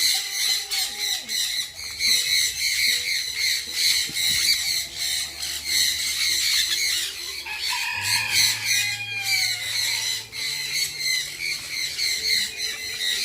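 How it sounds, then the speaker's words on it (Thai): Loud, continuous squawking and clucking from a crowd of chickens at a bird-garden cafe, with a rooster crowing among them and a low hum underneath. "อ้ เสียงนก"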